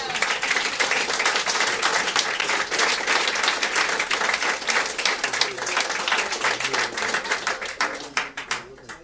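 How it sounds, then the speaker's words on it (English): Audience at an Easter church service held in a casual drinking venue claps warmly, individual hand claps distinct and rhythmic, thinning toward the end as a few voices come through. "So I just really want to give a round of applause right now to our Patreon supporters."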